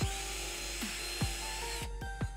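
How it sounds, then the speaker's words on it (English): A drill cuts a couple of mounting holes through a bracket, a steady whirring motor tone broken by several sharp bursts as the bit bites in, close and alone. "Drilling a couple mounting holes."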